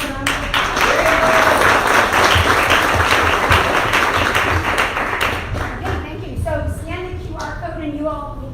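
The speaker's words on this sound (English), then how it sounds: "Let's give him a round of applause." An audience claps in a warm, sustained round of applause that gradually thins out as a voice begins talking over the last few seconds.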